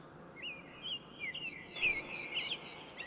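Birdsong in the hunting game Way of the Hunter: a bright, warbling run of high chirps and trills, fairly close and prominent, continuing steadily over a quiet ambient background with no talking.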